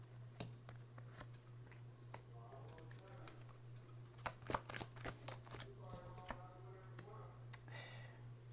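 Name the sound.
shuffling and pulling tarot cards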